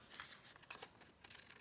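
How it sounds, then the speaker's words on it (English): Scissors snipping off scraps of printed paper, a few quiet close crisp cuts and rustles spread across a short moment. "just going to snip that off at the top"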